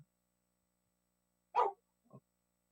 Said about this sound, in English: sorry about my dog. She's very loud.